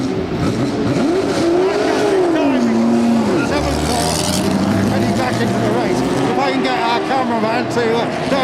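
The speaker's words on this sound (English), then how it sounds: "I hear an engine, Andrew." Racing car engine sweeping up and down in pitch as it passes at a gravel-strewn circuit during a test session, loud over steady background noise, with a commentator's voice faintly mixed in.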